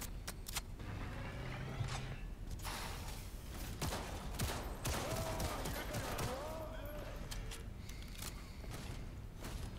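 Video game gunfire in bursts of sharp cracks over a busy, cluttered background of mechanical clatter and noise, fairly faint overall, with a person talking through parts of it.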